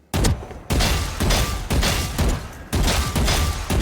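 Rapid automatic gunfire from strafe shooting in the tactical shooter Valorant, loud and close, in three sustained bursts separated by brief pauses, with no talking.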